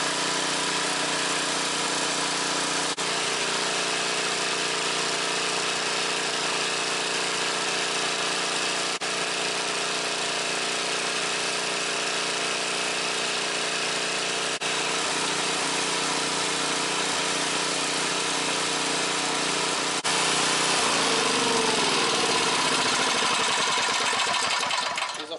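A portable generator engine runs steadily at a loud, close, continuous drone, its pitch rising and surging slightly near the end as it idles without load after a governor repair.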